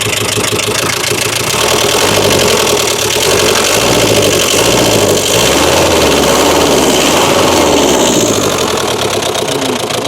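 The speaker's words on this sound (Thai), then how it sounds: "เดี๋ยวมาฟังอัตราการเร่งเครื่องให้พี่น้องในเบื้องต้นกันครับ" A 1980 Toyota Hilux single-cab pickup with a 2.4-litre diesel engine running loud and close, its rumble rising and falling as it is revved, with no talking.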